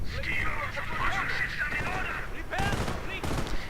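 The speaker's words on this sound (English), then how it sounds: "we are seeing another rocket barrage just hammering down" Rocket barrage and gunfire in a World War II strategy video game, a continuous rumble of distant explosions and crackling fire, with sharper bursts toward the end and someone talking over it.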